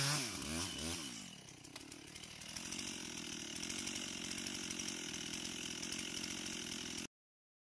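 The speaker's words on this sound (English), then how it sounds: "Operators use precision chainsaws to make directional notches, guiding the tree to fall exactly where intended." A chainsaw cuts into a tree during forestry logging, with a revving start followed by a steady, loud, close engine drone under load that runs until an abrupt stop.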